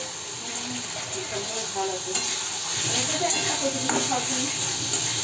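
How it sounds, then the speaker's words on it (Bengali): Green chillies go into a liver curry that is almost done frying in a pan, giving a steady, close sizzle with stirring and scraping and occasional louder spatters over a constant hiss. "অলমোস্ট কষানো হয়ে গেছে, এরপরে আমি কাঁচা লঙ্কাগুলো দিয়ে দিচ্ছি।"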